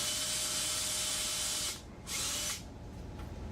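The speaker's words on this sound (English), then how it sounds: "What I'm going to do is take a countersink before I shoot the screw in." A power drill with a countersink bit cuts a hole in plexiglass for a screw, giving a steady, close, high-pitched whir that dips briefly near the end before resuming more quietly.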